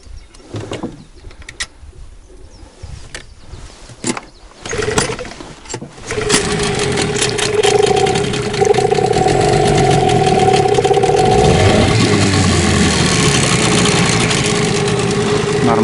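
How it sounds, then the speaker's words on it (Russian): Cold two-stroke engine on a river clean-up job is pulled and cranked a few times, catches, then settles into a loud, steady close running drone that rises slightly partway through. "Так, сейчас буду запускать холодный двигатель."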